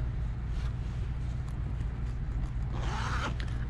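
A zipper is drawn along the top of a black Chanel Maxi Jumbo Classic Flap shoulder bag in caviar leather with gold hardware. A soft, steady close-up rasp gives way to one brighter, quicker pull near the end, with no talking.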